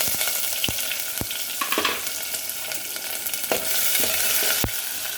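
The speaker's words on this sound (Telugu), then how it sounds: "ఇప్పుడు ఈ ఉల్లిపాయల్ని పచ్చి వాసన అంతా పోయి గోల్డెన్ బ్రౌన్ కలర్ వచ్చేంత వరకు ఫ్రై చేసుకోవాలి ఫ్రెండ్స్" Onions frying in a pan with curry leaves for chicken curry give a steady, close broadband sizzle, punctuated by a few sharp clinks and scrapes of stirring, with no voices.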